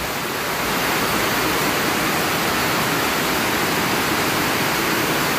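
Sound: heavy rain

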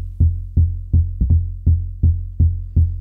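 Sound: Elektron Digitone bass track playing polyrhythmic hits

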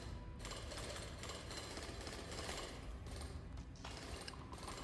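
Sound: drilling through ice in video game Drill Core

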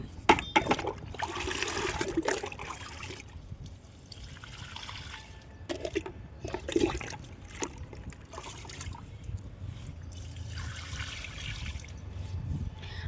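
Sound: water being poured onto plants

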